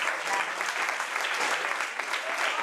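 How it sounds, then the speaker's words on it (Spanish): An audience applauds a triathlete speaker at the close of a talk, a steady dense wash of clapping that holds evenly from start to finish at a fairly close, full level. "Un aplauso para ella."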